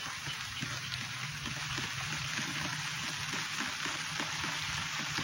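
Steady rain falls at a fishing spot during a camping trip, a dense continuous hiss with scattered drops and trickling water, fairly loud and unbroken with no talking.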